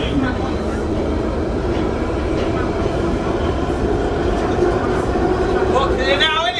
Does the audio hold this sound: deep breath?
no